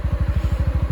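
A CFMoto UForce 600 UTV idles close by after running for a long while, a steady loud low-pitched chug with even rapid pulses, its cooling fan having just slowed down.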